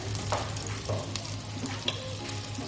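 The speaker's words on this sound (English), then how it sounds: "So my pan is heating right now with an olive oil. I'm going to add the butter." Butter sizzles and crackles steadily in a hot pan of heated olive oil, a soft continuous hiss close by with occasional light pops and no voices.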